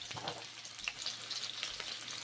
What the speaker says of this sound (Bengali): সর্ষের তেল গরম করছি পাঁচ ফোড়ন ভেজে নিচ্ছি